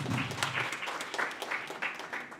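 A film promotion event audience claps in short uneven bursts, moderately loud and close, fading and swelling over a couple of seconds.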